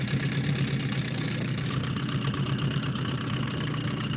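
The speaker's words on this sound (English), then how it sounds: "all I had is my one engine on here" A single outboard boat engine runs steadily while trolling on Lake Arthur, a continuous close, loud drone with a low rumble and no pauses throughout.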